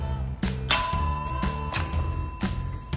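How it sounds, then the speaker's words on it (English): A toy hotel's service bell rings with a bright ding, followed by several softer clangs at uneven intervals, close and clear against a quiet background. "Why don't you ring the bell"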